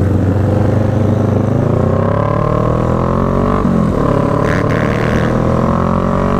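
Several motorcycles, including a Kawasaki Vulcan S, idling and revving at a mini-meet in Houston, a loud continuous layered engine drone with shifting pitches close by, one engine briefly revving.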